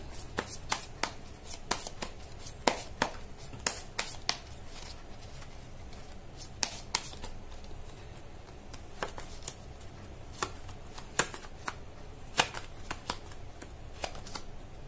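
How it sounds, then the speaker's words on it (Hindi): Tarot cards are shuffled by hand, giving repeated crisp riffles and soft slaps in an irregular rhythm. The sound is close but fairly quiet against a faint room hush. "कर लेती हूँ कार्ड की शफलिंग।"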